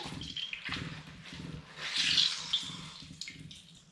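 Water pours from a tap into a container of gelatin for a dessert, a brief gentle splashing stream that swells midway and fades, accompanied by light clinks and handling noises close by.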